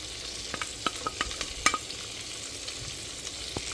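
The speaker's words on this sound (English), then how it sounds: "as the butter is melting, we're going to add in our garlic." Garlic stirred into melting butter in a pan for chicken alfredo, giving a soft steady sizzle broken by a run of light scraping taps from the utensil, close by with no talking.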